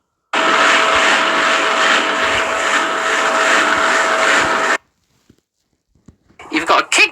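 A washing machine running its discharge cycle gives a loud, steady, close whooshing drone with a faint tonal hum. It cuts off abruptly, leaving near silence before a few short rustling bursts.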